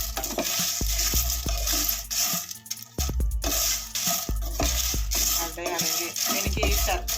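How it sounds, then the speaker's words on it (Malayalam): Pieces of rice ada fry in ghee for palada pradhaman, with steady close sizzling broken by scraping, stirring clatters and knocks against the pan. "അട നന്നായിട്ട് ഇങ്ങനെ വറുത്തെടുക്കാം."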